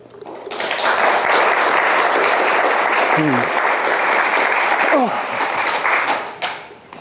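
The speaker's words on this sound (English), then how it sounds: "you should save your clapping till the end" An audience applauds Professor Paul Clarke at a 2013 lecture, the clapping swelling quickly into a full, sustained roar, with a couple of brief voices cutting through before it fades out near the end.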